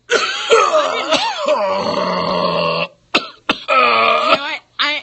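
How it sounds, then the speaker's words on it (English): A man coughs and clears his throat in loud, close, harsh bursts, several rough hacking coughs and throat-clearing grunts in a row with short pauses between. "Let me see if I can get his cough under control"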